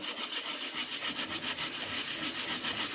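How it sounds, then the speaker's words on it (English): Coarse sandpaper rubs back and forth over a surface in quick, even strokes, a close raspy scratching that repeats about three times a second with no talk. "a rougher sandpaper than I would like to use for this"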